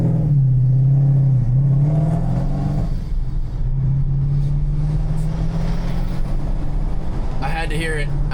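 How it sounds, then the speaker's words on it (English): A car engine revs up with a low rising drone, then settles and builds again, heard close and fairly loud with some background road noise. "I had to hear that engine real quick."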